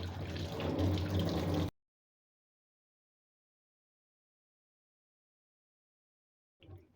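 Soaked snack ingredients rinsed under a running kitchen tap: a short, steady gush of water that cuts off abruptly into silence, then a brief splash right at the end.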